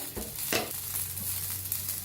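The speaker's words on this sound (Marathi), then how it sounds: "बघा मिरची चांगली भाजायला आली" Green chillies with garlic and asafoetida fry in a pan, a soft steady sizzle with a couple of stirring scrapes near the start.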